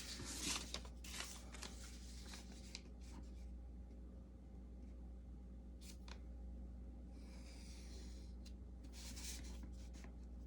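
A pencil draws along a paper ruler to link the corners of a cube to a vanishing point in a one-point perspective sketch. Soft, close scratchy strokes repeat in bursts with quiet gaps between them.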